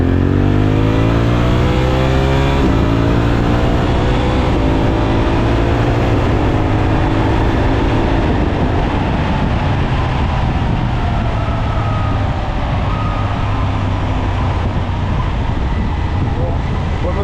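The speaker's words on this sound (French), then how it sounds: "Allez, dernière accélération shifter en deuxième." A Suzuki V-Strom 800SE motorcycle revs hard in first and climbs in pitch, then briefly dips as the quickshifter shifts up to second and pulls again, loud and close throughout.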